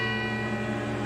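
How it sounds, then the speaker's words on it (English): A neighboring clock chimes with a steady, ringing bell tone whose overtones sustain evenly throughout, heard alone without any talk. "Scrooge awoke to the chimes of a neighboring clock."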